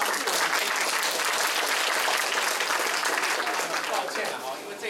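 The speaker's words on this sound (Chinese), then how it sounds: "大家是要给校长掌声" A school audience applauds the principal indoors, a dense, steady wash of clapping that stays loud for the whole stretch and eases slightly near the end.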